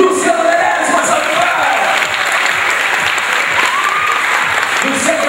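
Audience at a student talent festival applauding the maestro, with loud, sustained clapping filling the hall alongside scattered voices and faint cheering throughout.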